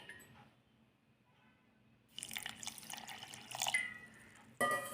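Water is poured from a small tumbler into a mixer jar of sweet lassi, a quiet pause giving way to a splashing, gurgling pour for a couple of seconds, then a short final splash.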